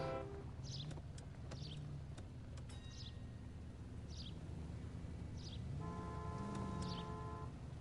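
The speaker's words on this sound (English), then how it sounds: "Did people always used to honk the horns constantly?" Car horns honk repeatedly in a street scene from a video game set in the 1950s or 1960s: several short toots and a couple of longer blasts over steady traffic rumble, mid-distance, with no talking.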